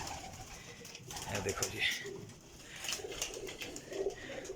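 Pigeons coo repeatedly in a new loft setup in Kotli, Azad Kashmir, moderately close, while someone talks over them.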